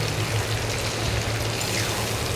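Lentils poured into a pan of fried onions while making torka dal, giving a steady, close rushing hiss that lasts the whole moment with no talking.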